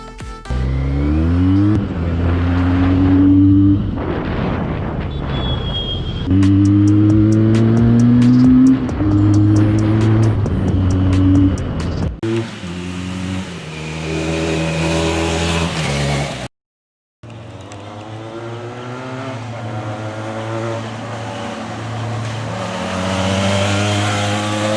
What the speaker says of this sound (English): the Benelli has never failed in impressing the customers by the impressive exhaust sound